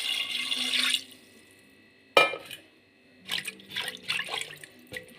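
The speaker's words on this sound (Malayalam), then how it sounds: "വേവാൻ ആവശ്യമായ വെള്ളം ഒഴിക്കാം." Water is poured into a pressure cooker for cooking tapioca biryani. A short gush comes first, then a sharp clank and further splashy pours and drips, close and with pauses between them.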